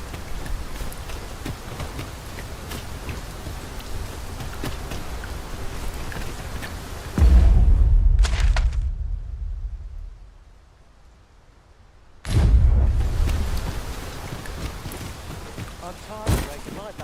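Steady rain pours in a Skyrim-style fantasy video game, with two deep rumbling thunder swells partway through and a brief near-silent lull between them before the downpour resumes.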